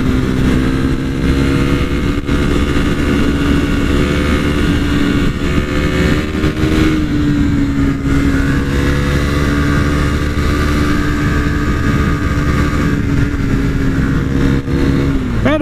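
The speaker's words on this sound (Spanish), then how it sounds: "Sube rápidamente las revoluciones y también la velocidad." A Husqvarna Svartpilen 401 motorcycle on a busy public road revs hard as it accelerates, its engine note climbing and holding loud and close for a long stretch with a brief dip midway.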